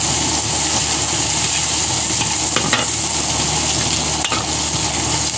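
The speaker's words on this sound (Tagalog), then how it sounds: "Pasensyahan nyo na nga po ang ingay ng sandok at ingay ng aking kalan" Metal ladle scraping and stirring food in a pan on a stove while sautéing pechay with fish and onions, a steady sizzle under a few sharp clanks of the ladle, close and loud.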